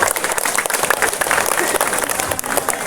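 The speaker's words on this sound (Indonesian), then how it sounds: "tepuk tangan untuk beliau" Hall audience at a Banyuwangi regency gathering claps for the regent's wife, brisk dense clapping throughout with crowd noise and a voice partly audible underneath.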